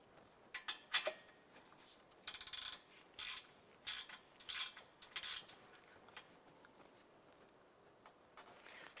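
A ratchet snugs down the nuts on an A/C condenser in a 2011-2019 Ford Fiesta. It makes quiet bursts of rapid clicking, several short runs separated by pauses, close by with no talk.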